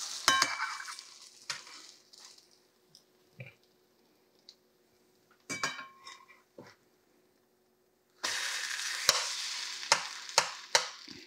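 French toast flipped in a buttered frying pan: scattered scrapes and taps from the spatula, then a burst of loud, close sizzling with sharp clicks as the slice lands.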